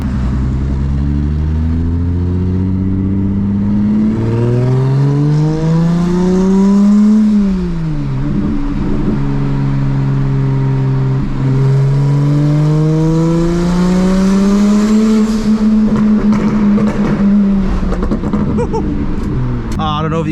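A BMW 335i with a 700whp single turbo engine revs and pulls hard in a loud, close run, its pitch climbing, dipping and climbing again through the gears, with talk heard faintly under it.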